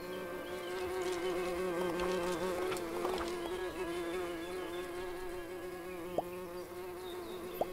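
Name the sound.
bees buzzing in video game Everdream Valley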